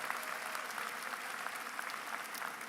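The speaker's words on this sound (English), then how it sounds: "Please join me in a round of applause for" Audience applause at a spring university commencement for faculty members, steady dense clapping from a large crowd, fairly distant and even throughout.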